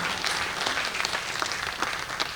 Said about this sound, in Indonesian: Tepuk tangan untuk Malam Peduli Seniman.